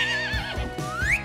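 A young foal neighs close by, a shrill, wavering whinny that breaks and then rises sharply at the end, heard alone.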